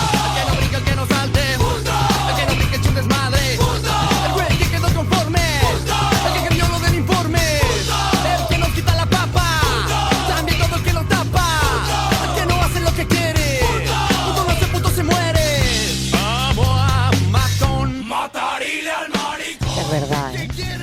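A rap-rock song plays loud and continuous, with shouted group vocals over pounding bass and drums; the mix drops out briefly near the end before kicking back in.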